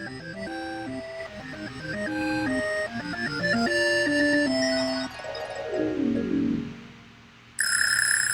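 ClassroomScreen's visual timer plays a series of alarm sounds: bright chiming melodic notes, then a descending sweep, a short pause and a shrill ringing tone at the end, with no talking.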